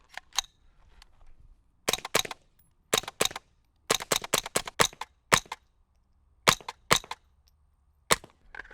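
A series of sharp, muted .22 rimfire gunshots through a Jaguar suppressor, with mechanical action clacks, in irregular bursts of two to five shots separated by short pauses; no voices.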